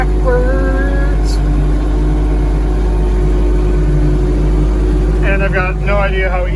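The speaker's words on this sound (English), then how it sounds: "And we'll start driving backwards on the track in reverse." An R/C car reversing on a packed snow track, a steady whining motor hum throughout, with faint tonal squeals early on and a burst of higher warbling tones near the end.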